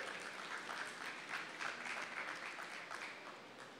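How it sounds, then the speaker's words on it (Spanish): An audience applauds at a tourism business pitch marathon in Colombia, steady dense clapping from a sizable crowd, moderately distant and sustained without a break. "vamos a Juan Pablo con un aplauso."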